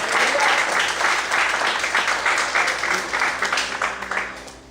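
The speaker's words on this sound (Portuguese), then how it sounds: "Você pode aplaudir o Senhor bem forte? Bem forte as palmas" Loud, sustained applause from a church congregation during a worship service, dense clapping filling the room for several seconds and slowly tapering.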